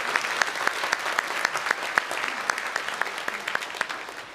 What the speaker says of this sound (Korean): 뒤에 계시는데 박수로 우리 환영하도록 하겠습니다.